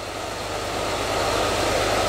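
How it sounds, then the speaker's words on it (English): A rebuilt engine idling quietly, a steady low hum with a broad hiss that stays even and continuous throughout, no talking over it. "What a quiet sounding engine that is."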